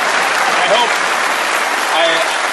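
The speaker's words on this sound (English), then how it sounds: "I hope that applause is for my mom" Steady, dense applause from a large late-night TV studio audience, filling the whole moment with a continuous wash of clapping and faint voices.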